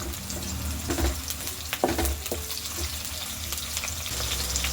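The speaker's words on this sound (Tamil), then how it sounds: "வெந்தயம் பொரியட்டும்." Fenugreek seeds frying in oil in a pan, a steady close sizzle with scattered pops and a few knocks of a utensil against the pan, no talk.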